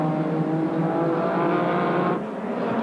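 Sports sedan race cars, including a Holden Monaro, cornering cautiously at Amaroo Park in 1984, their engines droning steadily and fairly loud throughout with no talk over them.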